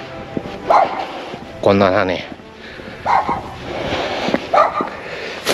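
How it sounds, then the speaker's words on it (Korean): Several dogs barking in bursts around a rural plot, with repeated yelps and barks scattered across the moment, mid-distance, while someone talks over them. "이 똥개들. 시끄레."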